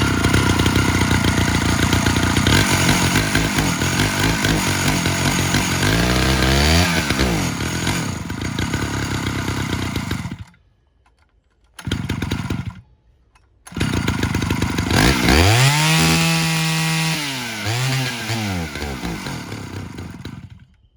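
A Stihl 051AV chainsaw, needing retuning and fitted with a black two-piece part, runs loud and close, revving up and down, cutting out twice briefly before roaring back with rising and falling engine pitch.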